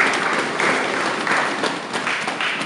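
A church congregation gathered for a sermon applauds warmly, a dense, loud wash of clapping from many hands that stays steady throughout with slight surges, without talk over it.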